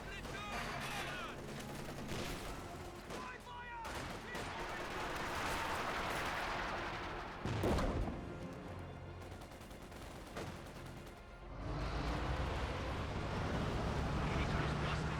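An artillery barrage in Company of Heroes 2 pounds in dense, overlapping blasts mixed with bursts of gunfire, heavy and sustained, with one loud impact standing out, under a commentator's talk.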